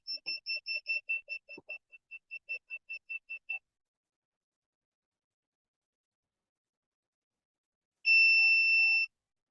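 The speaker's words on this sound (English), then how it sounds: "That is buzzer based upon the frequency." An Arduino multifunction shield buzzer sounds a rapid run of about seventeen short, clear electronic beeps, then falls silent before a single longer steady tone near the end, close and alone.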